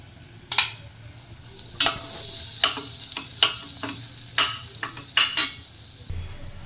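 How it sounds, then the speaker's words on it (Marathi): Potato pieces tossed into a pan and sautéed for batata vada filling: a hissing sizzle runs throughout, broken by about eight sharp, evenly spaced spatula scrapes and knocks against the pan, close and fairly loud. "आता याच्यामध्ये बटाटा टाकून घेऊयात"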